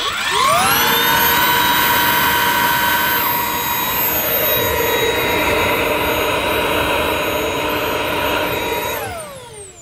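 A Shark vacuum cleaner, faulty and sold as new, runs at its slower hard-floor speed: a loud, steady whine with sustained tones that shift slightly partway through, then fades and winds down at the end.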